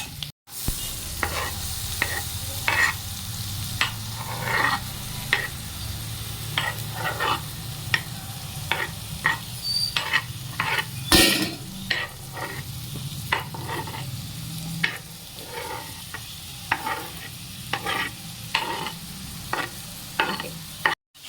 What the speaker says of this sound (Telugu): అన్నీ కలిపేసేసి ఇలా ఫ్రై అయితే చేస్తున్నాను.